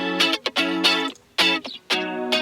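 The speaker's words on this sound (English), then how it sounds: "which is the crisp, beautiful guitar sound that we're looking for" Crisp, bright electric guitar in an indie-pop style, played direct through compressor, EQ and a touch of amp, ringing strummed chords with short muted breaks, loud and close, no speech.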